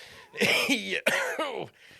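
A single person's raspy throat-clearing cough, close and fairly loud, breaking into two or three harsh bursts over about a second and a half.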